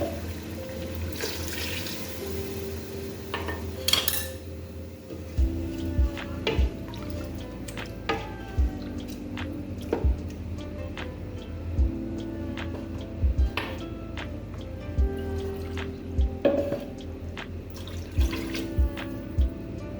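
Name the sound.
water being added to chicken for haleem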